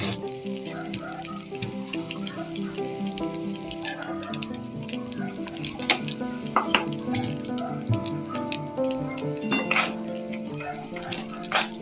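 Roasted coconut and rava with cardamom powder stirred in a pan, frying with a continuous sizzle and frequent scraping clinks of the spoon, while a voice talks intermittently.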